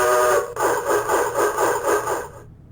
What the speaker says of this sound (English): my computer is going to go and make all kinds of crazy noises